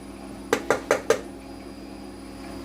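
Chopped onion going into a pressure cooker for Jamaican mutton soup with diced lamb, heard as four quick clattering knocks in a row against the metal pot, followed by a quiet pause and one last knock.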